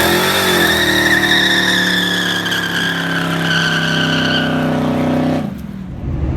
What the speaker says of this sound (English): this is my very first, very weak, but very first burnout that I did in Clifford since I did the motor swap